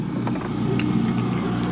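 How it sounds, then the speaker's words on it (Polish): A boat engine runs out on a river during a mock pirate boarding of a raft, a steady low motor drone with a faint irregular rumble, fairly close and with no talk. "Wyłącz silnik!"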